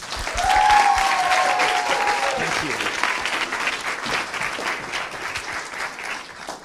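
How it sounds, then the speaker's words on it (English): An audience bursts into loud, sustained applause with some cheering, the clapping staying dense and gradually easing over several seconds. "give Eboo Patel a warm round of applause"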